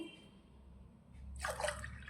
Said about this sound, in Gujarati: હવે તપેલીની અંદર અત્યારે આપણે પાણી લઈશું।